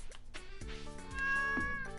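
A cat meows in Stardew Valley, a few clear, tonal, game-style mews close up over soft background music, with no talking.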